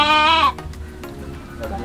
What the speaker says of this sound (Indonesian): Nih dombanya diguntingin nih, lagi bobo.